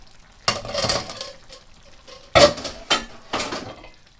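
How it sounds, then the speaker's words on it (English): Several separate bursts of clattering and scraping as pasta is folded into vegetables in a pot, with short pauses between the bursts. "Fold the pasta into the vegetables"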